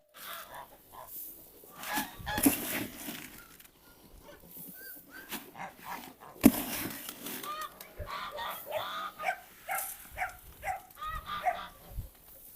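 Farmyard with chickens, goats, ducks, geese, pigeons and dogs, scattered short clucks and calls at moderate distance amid other animal sounds and a few barks.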